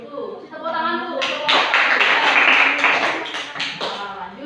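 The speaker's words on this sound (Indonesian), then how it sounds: "kalau begitu kasih tepuk tangan dulu" Classroom participants applaud after a group presentation, a burst of many hands clapping that swells to a dense, lively peak and then thins out, with a voice talking as it begins.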